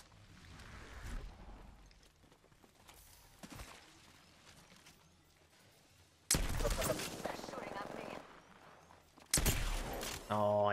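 Gunfire in the Apex Legends battle royale video game bursts out loudly in two dense volleys after a quieter stretch of scattered sounds, with voices talking over parts of it.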